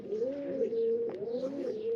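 Pigeons of a prized fancy breed coo steadily in a continuous, rolling, warbling drone, close and clear, with no talk over them.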